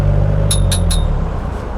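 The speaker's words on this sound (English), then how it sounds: "The second way is to use a coin and tap the bar on top of you." A coin taps the metal bar on a jeepney roof three times in quick succession, bright ringing clinks over the low engine and traffic rumble of the moving vehicle.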